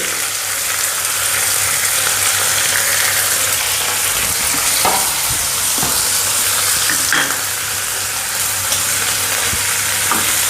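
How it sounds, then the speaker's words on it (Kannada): Garlic lemon rice with coriander leaves and grated coconut is stirred in a pan, giving a steady sizzling hiss with a few scraping strokes of the spoon throughout. "ಕೊತ್ತಂಬರಿ ಸೊಪ್ಪು ಮಿಕ್ಸ್ ಮಾಡ್ತೀನಿ ಮತ್ತು ಕಾಯಿ ತುರಿ"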